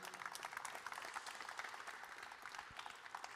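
Applause rises from an audience at a plenary session on hydrogen mobility, a quiet, distant patter of many hands clapping steadily for a few seconds without speech.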